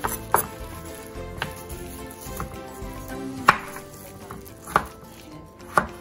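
Knife chopping ingredients such as garlic on a cutting board for a home-style sardine dish, a handful of sharp, isolated knocks spaced unevenly across a quiet kitchen background.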